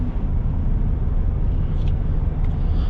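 A two-wheel-drive 2021 Ford F-150 XLT V8 pickup accelerates in sport mode, its steady engine and road drone filling the cabin at a constant, fairly loud level with no speech.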